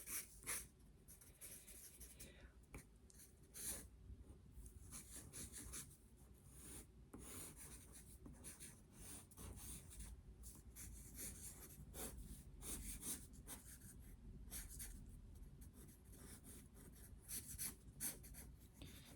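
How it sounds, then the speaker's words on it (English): A pencil scribbles quickly on paper during gesture drawing, with close, quiet scratchy strokes in short bursts and brief pauses, continuing throughout. "I'm just going to sort of scribble the ends of the fingers"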